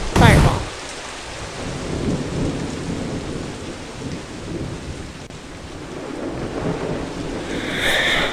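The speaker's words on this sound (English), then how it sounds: "Maybe our friends came in here to take shelter from the rain." Rain pours steadily in the video game Battle Block Theater, opening with a loud crack of thunder and rolling on as a dense, constant hiss with no voices.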